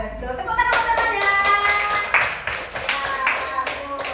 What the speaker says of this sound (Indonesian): Tepuk tangan temannya.